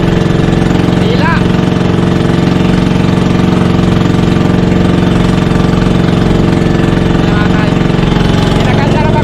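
A broken-down vehicle's engine idles steadily on a roadside in Marayong Pila, a loud continuous rumble throughout, with faint voices in the background.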